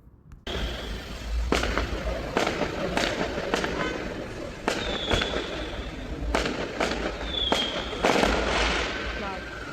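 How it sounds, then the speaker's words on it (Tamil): Diwali firecrackers and fireworks going off in Little India: a series of sharp bangs and crackles at irregular intervals, some near and loud, a few with whistling rises, over a constant crowd murmur. "பயங்கரமாக 2 நாளைக்கு முன்னாடி இருந்தே வந்து பட்டாசு விட ஸ்டார்ட் பண்ணிட்டாங்க."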